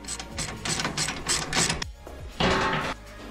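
A ratchet wrench clicks rapidly in bursts while loosening a bolt on a Scania V8 truck, with a short pause and then another loud run of clicking close by, with no talk.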